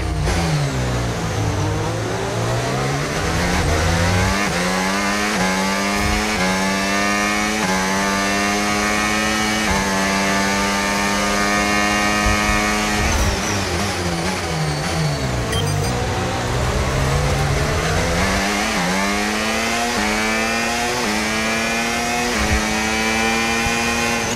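Race cars accelerate hard for a sustained stretch, engines roaring and revving up through repeated gear shifts with rising and dropping whine, loud and close, no talk.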